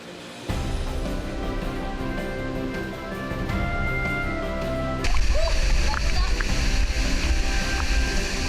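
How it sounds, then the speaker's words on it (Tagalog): Flowing water of Skyline Falls in the Duba Cave underground river, a continuous rushing wash that grows louder and closer about halfway through. "Ang pinanggagalingan ng umaagos na tubig ang Skyline Falls."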